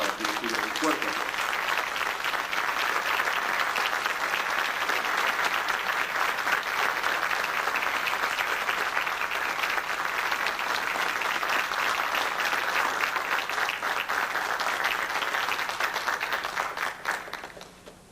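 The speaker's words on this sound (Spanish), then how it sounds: "Con ustedes, el profesor José Álvarez López, para que reciba un fuerte aplauso." Sustained audience applause at an international UFO studies congress in Argentina, dense continuous clapping from a large crowd lasting the whole stretch, steady and loud before tapering off at the very end.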